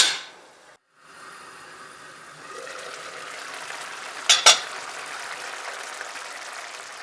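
Orange-braised celery gets stirred in a cooking pot: a soft, steady scraping and sizzling wash, broken midway by two quick, sharp clinks of the utensil against the pot.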